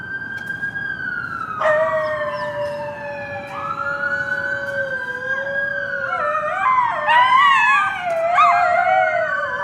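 Several coyotes howl together in wavering, high-pitched cries that overlap and rise into excited yips and yelps toward the end, heard fairly clearly over a low background rumble near Central Park, New York.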